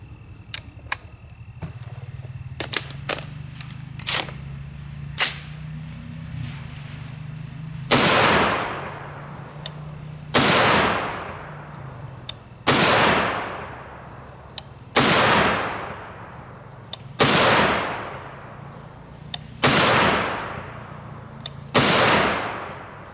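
.308 Winchester rifle firing 147gr FMJ ammunition, with about six loud booming shots spaced a few seconds apart, each trailing off in a long echoing decay, after some earlier sharp mechanical clicks.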